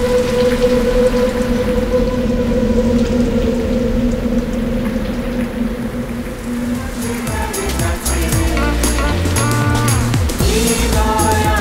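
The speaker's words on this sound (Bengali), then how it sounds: "কি মজা, কি জোরে বৃষ্টি পড়ছে।" Heavy rain pours down in a loud, steady, dense wash, with music joining in the second half.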